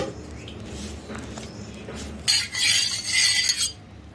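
A spoon stirs cornflour into milk in a metal pot for rose ice cream. Quiet at first, then brisk, loud scraping and clinking for about a second and a half.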